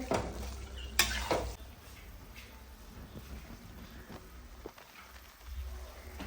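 Potato pieces roasting in a hot pan in a home kitchen, stirred with a spoon, give a steady soft sizzle broken by scraping clanks near the start and a few light knocks later.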